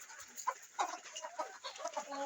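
Farm chickens raised in an open setting cluck in short, irregular bursts that overlap and sit close to the listener, with a few louder calls standing out.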